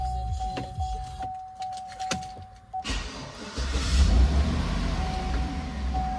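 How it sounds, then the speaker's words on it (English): A car engine cranks with a starter and catches during a battery and alternator test, with a steady whine and clicks before it turns into a loud, rough idle rumble close by. "So I'm going to crank it now."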